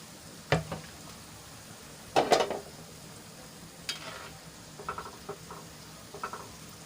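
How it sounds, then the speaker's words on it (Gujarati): Stuffed chilli and potato bhajiya fry gently in oil over a low-to-medium flame, giving scattered soft crackles and brief sputtering bursts against a quiet background. "ધીમા તાપે આપણા ભજીયા સરસ રીતે ચડી જાય"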